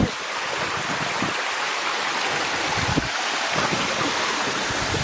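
Steady broadband rush of water from a jungle waterfall in Costa Rica, a constant roar close by with no voices over it.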